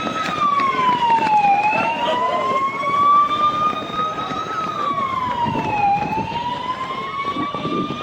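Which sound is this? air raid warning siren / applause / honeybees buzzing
air raid warning siren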